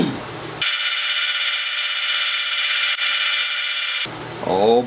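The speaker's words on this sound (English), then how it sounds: "Now it's time to sand." A power sander works a dogwood live edge wooden pot, a loud steady high-pitched whine held for about three and a half seconds, with brief quieter sounds before and after.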